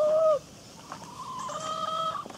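Hens clucking in a collective henhouse in Dordogne, a few close, distinct calls with drawn-out tonal clucks, alone with no talk.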